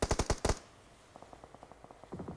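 Rapid bursts of gunfire in a competitive battle royale video game scrim, a quick loud volley at the start followed by a quieter, steady string of distant shots and a renewed flurry at the end.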